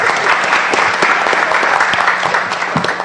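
An audience at a school board meeting applauds in a steady, dense patter of many hands clapping, sustained and fairly loud for the whole stretch.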